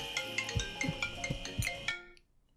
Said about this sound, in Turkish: Telefonum niye çalıyor benim?